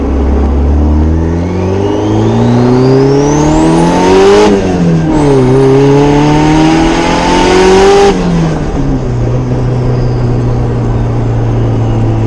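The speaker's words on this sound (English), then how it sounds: "I can actually hear the wastegate now" A street-tuned twin-turbo Honda Civic's engine revs hard through several rising gear pulls, with a turbo whistle and a sharp wastegate hiss between shifts, loud and close, no talking.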